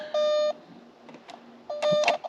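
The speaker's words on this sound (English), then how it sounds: "problem with turning the key on is we get that annoying beep" A Porsche 944 chimes a warning beep with the key turned on: a steady electronic tone sounds, stops, then returns with quieter clicks and rustling between.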